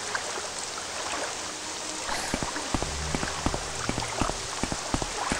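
Steady rain in the video game Morrowind falls continuously, with a dense hiss joined midway by distinct drips and patters on a nearby surface, and no voices.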